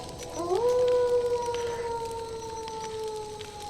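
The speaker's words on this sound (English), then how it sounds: "Far in the distance, you hear yet another wolf howl." A single long, wavering howl drifts in from far away, rising at the start and then holding a steady, mournful tone.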